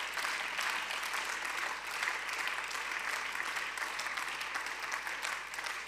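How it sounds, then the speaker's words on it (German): Members of a parliamentary chamber applaud during a plenary session debate, a steady wash of clapping heard from a distance at moderate level with no voices over it. "Applaus"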